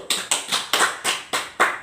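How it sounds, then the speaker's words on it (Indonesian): Six evenly spaced, crisp hand claps ring out in a mothers' health class, loud and close with brief gaps between each, and no talking over them. "Tepuk tangan dulu."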